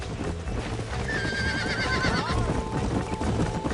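Horses whinny in Red Dead Redemption, one long wavering neigh rising over steady hoof clip-clop on the ground, close and fairly loud against a busy ambient background.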